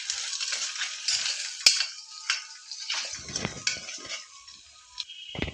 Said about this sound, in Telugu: టేస్ట్కి సరిపడినంత ఉప్పు వేసుకోవాలి వేసుకొని ఇవన్నీ మొత్తం బాగా కలుపుకోవాలి